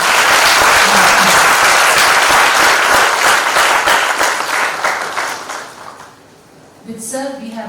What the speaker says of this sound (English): Give him a round of applause and welcome him.